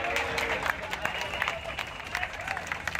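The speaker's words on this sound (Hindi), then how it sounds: "उसकी जान बचने पर लोगों ने तालियां बजाकर खुशी भी जताई।" A crowd claps and cheers at the scene of a building collapse after a person is rescued from the rubble, with busy clapping mixed into a noisy hubbub of voices.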